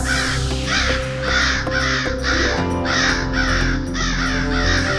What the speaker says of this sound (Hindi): काक तो आ गए, पर अब